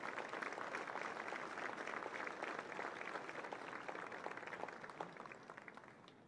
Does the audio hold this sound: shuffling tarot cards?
no